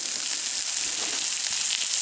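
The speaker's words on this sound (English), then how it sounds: "I got that massive chunk of beef on there. You can hear it sizzling." A massive chunk of beef sizzles in olive oil on low heat at a forest campsite, a steady close crackle and hiss that runs unbroken for the whole stretch.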